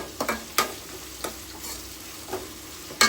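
Cashews and curry leaves frying in a pan for avarekalu chitranna, a soft steady sizzle broken by a few sharp scraping stir strokes, close and without speech.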